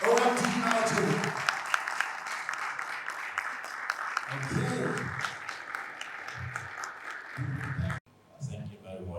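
An audience at a platform launch marking OMD Nigeria's 25th anniversary claps steadily for several seconds, with voices talking over it. The applause cuts off abruptly near the end, followed by brief talk.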